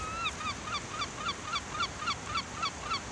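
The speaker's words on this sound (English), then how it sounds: "I think it's a seagull." Repeated seagull calls in the video game Skyrim, about a dozen short squawking cries in a steady rhythm over a constant background hum, fairly faint.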